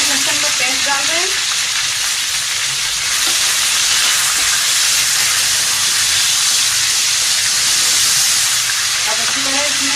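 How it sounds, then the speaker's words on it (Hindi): Meat with ginger-garlic paste sizzles loudly on browned onions in a pan, a steady dense frying hiss with stirring throughout, a few faint voice traces underneath. "अब इसमें हम अदरक लहसुन का पेस्ट डाल रहे हैं।"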